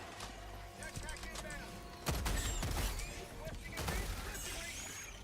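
Breaker Incendiary shotgun fired in the Helldivers 2 video game, a few heavy booming blasts at about two and four seconds, set among busy battle noise and game effects, with a person talking over the action.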